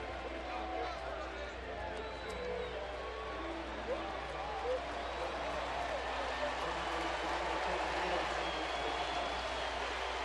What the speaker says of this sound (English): Listen to the cheer for David Ortiz.